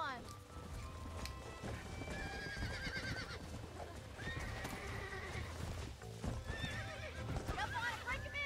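Horses neigh and whinny repeatedly over a steady patter of galloping hooves in Red Dead Redemption, with busy game-style background sounds throughout.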